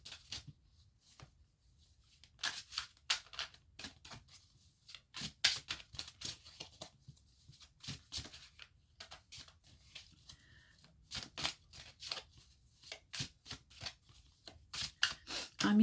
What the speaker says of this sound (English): now I'm going to pull some cards for you